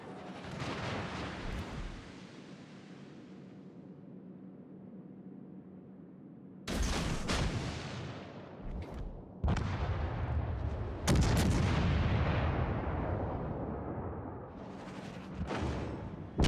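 Heavy battleship guns fire in a naval video game, with several loud booming salvos that rumble and decay between shots and arrive in irregular bursts, with no talk over them.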